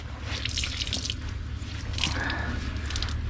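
Water squeezed from a soaked sock drips and splatters in short irregular bursts nearby, with soft squishing between the drops.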